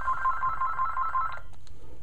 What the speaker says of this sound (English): the minute I start this, that phone will ring, and it did